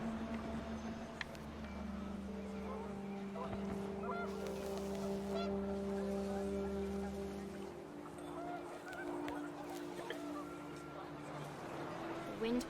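Panicked geese honking in the video game What Remains of Edith Finch, a sustained chorus of overlapping calls over wind and a low droning tone that eases off partway through.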